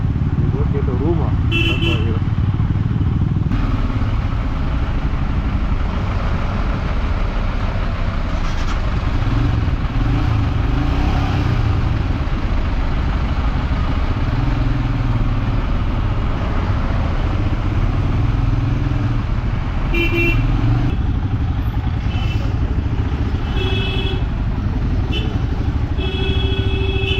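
Dense road traffic in Darjeeling with engines droning and motorcycles revving nearby, occasional horn toots, and people talking throughout.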